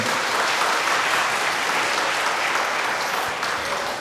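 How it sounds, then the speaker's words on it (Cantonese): An audience claps warmly at a children's choir Christmas concert in North Point, dense sustained applause filling the room for several seconds, fading slightly toward the end. "我哋再一次俾啲掌聲"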